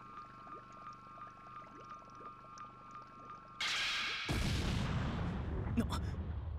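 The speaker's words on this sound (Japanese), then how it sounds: "なんだ今の爆発は。" A sudden explosion from the video game Dragon Ball Z Kakarot cuts in partway through, a loud burst followed by a sustained roar and rumble that replaces the quieter game ambience and tonal background music.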